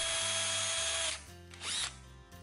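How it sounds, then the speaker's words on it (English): A power drill bores a 1/8 inch hole through the lamp locking screw hole of a boat's LED lighted post guide. The motor whines loudly in short bursts, cutting out and restarting a few times. "Drill a 1/8 inch hole through the lamp locking screw hole."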